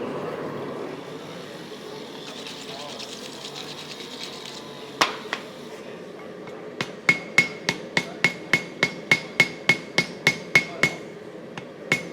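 Hammer forging a spear weld on an anvil at a hammer-in event, a quick regular series of about a dozen sharp ringing strikes after a quieter start, close and loud.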